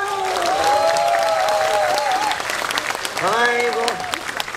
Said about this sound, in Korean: 얼쑤 박수 한번 주십시오.